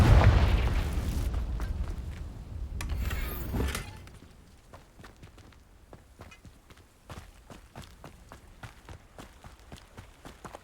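A Confringo blasting spell explodes in Hogwarts Legacy with a loud, rumbling boom that fades over about four seconds. Quiet footsteps follow.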